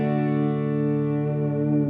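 An electric guitar chord rings through a reverb pedal in an effects chain, sustaining smooth and steady with a lush washed-out tail, no voices over it.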